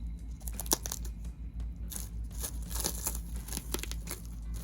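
Plastic protective wrap being peeled and pulled off an InkClaw Challenger tattoo machine, giving a run of close, irregular crinkling and tearing rustles with sharp bursts throughout and no talking.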